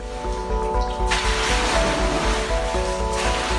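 Water in a covered swimming pool sloshes forcefully in a continuous, rushing surge, loud and close, like heavy waves slapping against the sides, with no voices.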